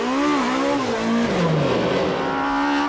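A BMW rally car races at the Rallye du Touquet in 1996, its engine revving hard and close with pitch climbing and dropping through gear changes in a loud, continuous roar.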